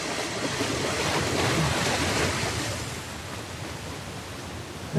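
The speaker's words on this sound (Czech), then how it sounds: "Pustili jsme vodopád. Vodu." Released waterfall in Uncharted: Legacy of Thieves Collection (The Lost Legacy), a steady loud rush of cascading water, broad and continuous like heavy surf, with no voices over it.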